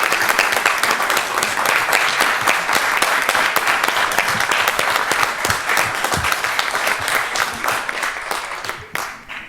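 Sustained audience applause fills a board meeting room, with dense, steady clapping from many people that holds for several seconds before tapering off at the end.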